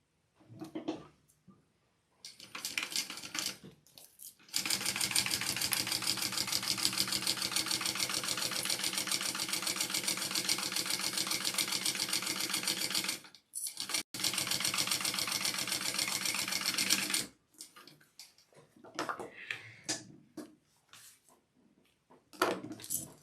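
A sewing machine top-stitches a Juanita bag in two long steady runs of rapid motor-driven needle strokes, separated by a short pause, with quiet handling sounds of fabric and parts before and after.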